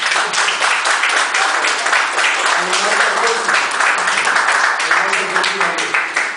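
An audience at a book presentation applauds the author with sustained, full clapping that holds steady and loud for several seconds, with a faint murmur of voices underneath.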